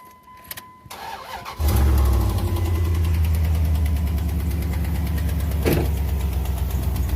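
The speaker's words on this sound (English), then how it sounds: "I'm going to show you what this exhaust actually sounds like on this truck." A 2001 Dodge Ram 1500 4x4 pickup engine starts and settles into a steady, loud rumbling idle with a raspy, ticking exhaust note from an exhaust manifold leak, heard close up with no talking.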